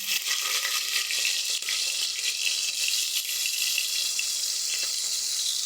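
Onions dropped into about two teaspoons of hot oil in a pan give off a steady, bright sizzling hiss that holds evenly throughout, close and fairly loud, with no voices over it.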